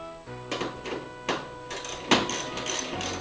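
Screws being backed out of the blower box on a Whirlpool or Kenmore clothes dryer with a 1/4 inch driver, giving a handful of close, sharp metallic clicks and rattles over a steady motor-like hum.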